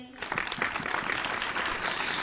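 An audience at a Hindi comic poetry gathering breaks into applause after a ghazal, the clapping swelling quickly into a dense, lively burst that carries on steadily to the end.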